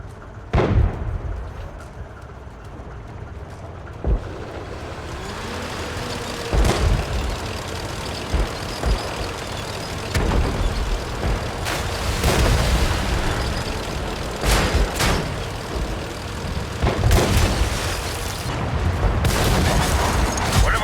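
Tank cannons fire and shells explode in a tank video game, with loud, sharp blasts at irregular intervals over a rumbling engine and battlefield din, some shots clustered close together near the end.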